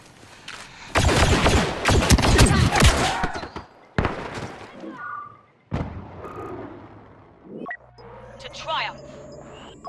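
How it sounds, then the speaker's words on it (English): Grenade launch and rapid gunfire in Star Wars Battlefront 2, loud bursts of shots and booms followed by scattered blasts and game sound effects. "Launching grenade!"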